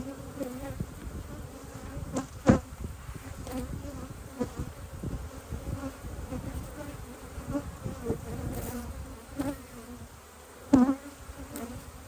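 A dense, close buzz of honey bees hums continuously around an open hive during an August apiary inspection, with a few sharp knocks and frame clicks cutting through and no speech.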